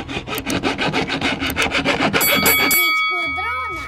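A screwdriver scrapes and gouges rhythmically at a wooden piggy bank in quick repeated strokes, close and fairly loud, ending in a brief ringing clink as the scraping stops.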